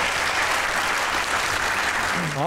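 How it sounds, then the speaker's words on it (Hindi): A studio audience bursts into sustained applause, a dense, even wash of clapping that holds at full strength throughout, with a voice briefly rising over it at the very end. "तालियां होनी चाहिए इस बात के लिए।"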